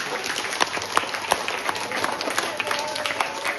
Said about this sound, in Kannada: ಒಂದು ಪ್ರೀತಿಯ ಚಪ್ಪಾಳೆ